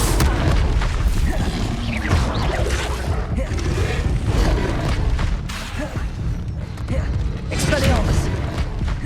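Booming blasts of the Confringo explosive spell in Hogwarts Legacy, dense and loud with crackling bursts, rumbling debris and creaking clatter throughout, mixed with a voice speaking.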